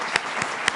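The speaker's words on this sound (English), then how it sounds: "Can we just get a round of applause for that?" Audience applause at a live event where New York Governor Kathy Hochul speaks on congestion pricing, a brief burst of dense clapping with a few sharper claps standing out.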